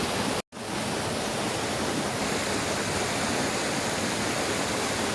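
Rushing river water roars steadily and loudly close by, a dense unbroken wash of noise after a brief cut near the start.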